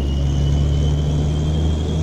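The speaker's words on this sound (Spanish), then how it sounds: "¿Y el eco del carro? ¿Oigan eso?" Steady low rumble of a heavy truck engine inside a tunnel on an uphill climb in a truck simulator game, a continuous droning hum with a faint high whine above, no talking.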